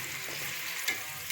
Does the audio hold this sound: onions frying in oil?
yes